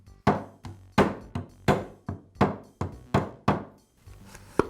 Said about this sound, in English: I'll place the second retaining ring onto the axle and use my socket and mallet to install it.